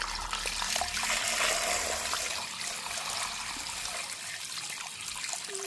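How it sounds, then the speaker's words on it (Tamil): Water runs steadily as a fish, a tuna, is washed, a soft continuous splashing and trickling close by with no talk over it. "எல்லாம் மீனுக்குள்ள தண்ணியே விடுகிறோம்."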